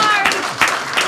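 People at a committee meeting give a brief, loose patter of applause, mixed with overlapping talk.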